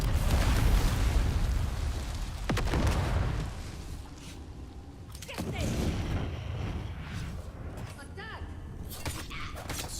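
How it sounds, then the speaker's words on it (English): Grenades exploding in Fortnite Chapter 3, loud broadband blasts with a sharp burst near two and a half seconds and another around five, set against dense game noise with a voice talking over it. "Silly nades."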